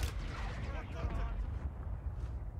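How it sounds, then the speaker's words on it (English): Mortar strikes explode in the video game Warzone, a loud, booming burst of blasts rolling over about two seconds while a player talks. "That's my mortar on you, don't worry."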